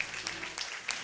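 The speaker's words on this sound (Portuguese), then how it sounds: "Vamos aplaudir ao Senhor Jesus pela vida da mãe." Brief burst of congregation applause during a church service, soft and somewhat distant, with scattered individual claps standing out over a steady patter.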